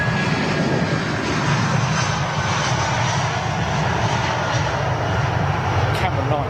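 Virgin Atlantic Airbus A330 jet at London Heathrow, a steady loud engine roar held throughout with broadband rumble, faint talk beneath.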